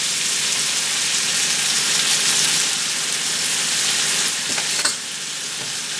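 Minced garlic frying in a pan gives a loud, steady, close hiss that carries on without a break, with a brief clatter near the end.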